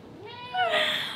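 A coned cat gives a single drawn-out meow that rises and swells in the middle, close and clear against a quiet room.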